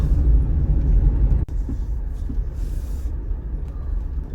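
An off-road vehicle on the Rim Rocker Trail rolls over a gravel road, giving a loud steady low rumble with tire crunch and cabin noise, broken by one sharp click partway through.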